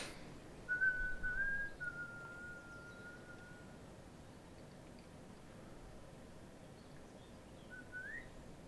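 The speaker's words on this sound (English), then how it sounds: "I am whistling to him like a dog." A person whistles as if calling a dog, giving a short rising-falling whistle followed by a long steady tone and a brief upward whistle near the end, clear against a quiet background.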